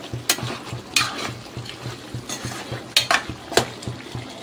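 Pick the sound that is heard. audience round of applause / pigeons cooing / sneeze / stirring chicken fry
stirring chicken fry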